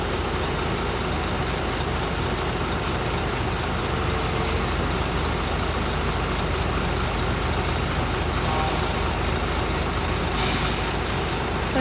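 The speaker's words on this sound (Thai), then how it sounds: "เพิ่นก็เอารถขึ้นไปเลยเนาะ" A six-wheel truck rolls onto a ferry raft on the Mekong crossing between Laos and Thailand, its engine a steady loud rumble throughout, with a short hiss like an air brake release near the end.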